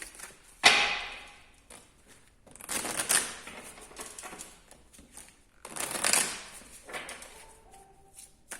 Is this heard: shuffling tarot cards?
yes